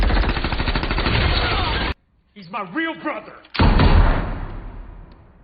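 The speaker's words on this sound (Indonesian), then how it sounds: "Mendengar tembakan tersebut" Dense bursts of rapid gunfire, loud and continuous, break off for someone speaking briefly, then the shooting resumes.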